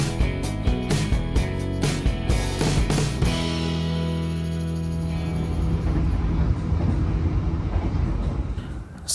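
The Jaka Tingkir passenger train pulls into Haurgelis station, a loud steady rumble with rhythmic wheel clatter early on giving way to a drawn-out squealing brake tone as it slows, heard from on board.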